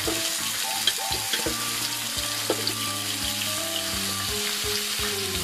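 Two kilos of pork adobo, marinated in garlic, pepper, soy sauce and oyster sauce, fry in oil with a loud, continuous, close sizzle and scattered sharp crackles and pops.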